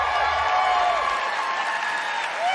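Audience applause at the Bethesda E3 2019 press conference, a steady wash of clapping from a large crowd that holds evenly for a couple of seconds.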